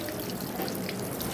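Tap water steadily fills a container outdoors, a continuous close rushing hiss with no break.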